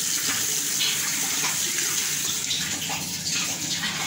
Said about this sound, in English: Guys, I'm done with washing my face.